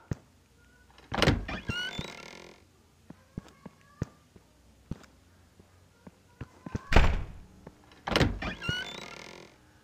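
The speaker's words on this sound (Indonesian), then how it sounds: "Wah, dia buka pintu tuh." In the Evil Nun 2 horror game, a door is opened, with heavy sliding and thudding sounds that rise and fade three times over short gaps amid scattered clicks and knocks.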